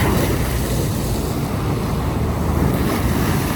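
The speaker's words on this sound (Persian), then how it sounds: "دریا خیلی قشنگه" Sea waves wash continuously in a broad, steady roar, loud and close, with wind buffeting the microphone and no voices.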